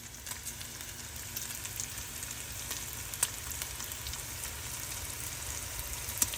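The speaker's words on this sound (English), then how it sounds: "we're gonna take our bacon and get it fried up until it's good and crispy" Bacon frying in a skillet over medium heat, a steady fine crackle and sizzle with occasional sharper pops, close and fairly quiet with no talking.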